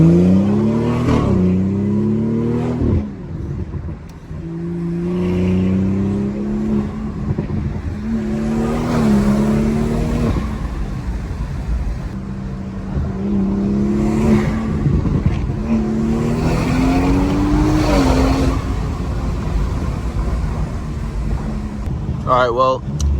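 A 2019 BMW 440i driven hard, its engine note rising and falling through repeated revs and gear changes, loud and close throughout with steady road and wind roar beneath.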